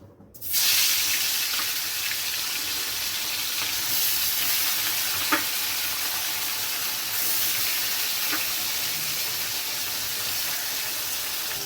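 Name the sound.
amudi fish frying in hot oil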